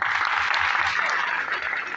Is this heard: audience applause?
yes